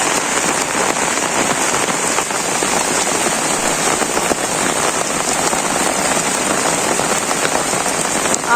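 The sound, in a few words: rain falling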